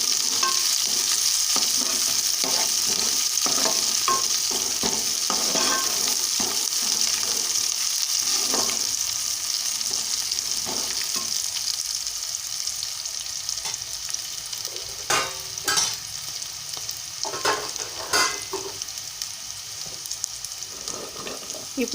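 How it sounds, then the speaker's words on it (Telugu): Onions and curry leaves frying in an oiled pan, giving a steady close sizzle throughout, with occasional spoon scrapes and stirring clatter growing more frequent toward the end. "ఉల్లిపాయలు వేగుతున్నాయి. ఇప్పుడు నేను కరివేపాకు వేస్తున్నాను."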